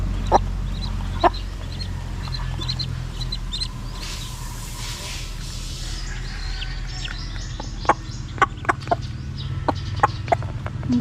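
A mother hen clucks in short, scattered bursts, some close and sharp, over a steady low rumble of background noise; her chicks are ducklings.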